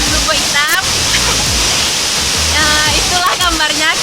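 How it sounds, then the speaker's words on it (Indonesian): The Lubuk Hitam waterfall in Bungus, Indonesia roars with steady, dense rushing noise, while voices talk over it throughout. "Oke, kita udah sampai di air terjun Lubuk Hitam."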